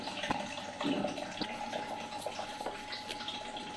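Water is poured into a pot of soaked dried fenugreek leaves, giving a close, steady splashing gurgle that lasts a few seconds with a brief louder gush near the start.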